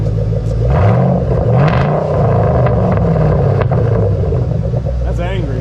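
Ford Mustang GT500 with a new Flowmaster exhaust rumbling loudly and steadily close by, with slight rises in revs while people talk over it.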